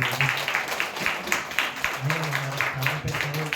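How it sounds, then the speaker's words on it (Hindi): Church congregation applauding two performed pieces: steady dense clapping fills the whole stretch at moderate loudness, with faint voices and murmurs mixed underneath. "क्यों ना हम हमारे दोनों पीसेस के लिए जोरदार तालियां बजाएं"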